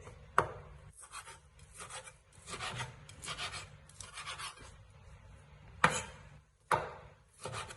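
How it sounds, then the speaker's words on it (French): Knife chopping through vegetables on a cutting board while preparing eggs Florentine, with a few sharp, loud cuts standing out over softer, irregular rasping scrapes of the blade. "pas la peine que ce soit trop fin, mais il faut les hacher un petit peu quand même"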